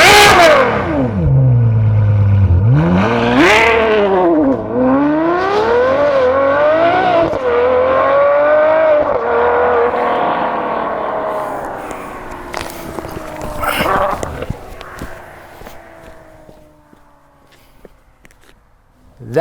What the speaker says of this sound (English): in order to see just how loud this exhaust is with our muffler and the flaps open